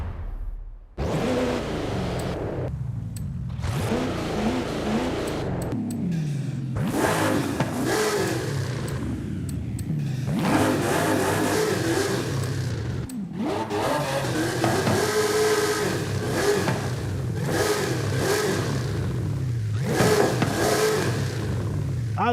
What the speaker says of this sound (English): I just want to keep the stock engine in this thing. See what it sounds like.